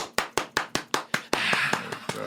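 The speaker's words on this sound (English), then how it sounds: "Clap your hands, clap your hands." Sharp hand claps from a concert audience at a classic rock show, first a steady rhythmic beat of single claps, then swelling into a denser spread of applause with claps still punching through.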